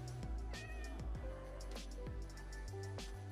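Cat in the Minecraft video game meowing repeatedly in a rapid series of short cries, fairly close and layered over a busy game soundscape.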